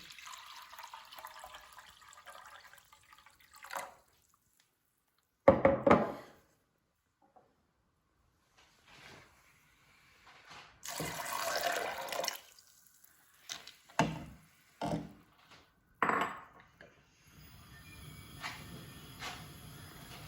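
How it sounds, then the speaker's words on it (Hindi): A cup of water is poured into a cooking pot in a home kitchen, a short splashing pour set among scattered clinks, knocks and quiet handling sounds. "तो इसमें हम लोग यही वाला एक जो प्याली है ना पानी की डालेंगे।"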